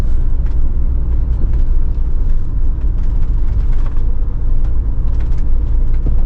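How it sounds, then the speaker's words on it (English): A lorry passes by a wet campsite in Provence, a continuous broad rumbling drone that stays fairly loud throughout, with no one speaking over it. "Oh, the lorry's back."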